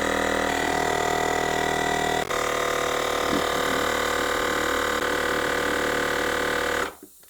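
A SUITU ST-9620 portable tyre inflator pumping up a bike tyre drones in a steady, loud, buzzing motor hum with a brief hitch partway through, then switches off near the end.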